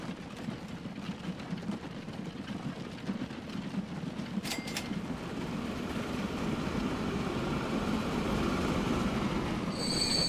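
Train rolling along the track in the Transport Fever game, a steady rumbling roar with wheel squeal and metallic clatter that swells toward the end, a brief high squeal near the middle and another at the close.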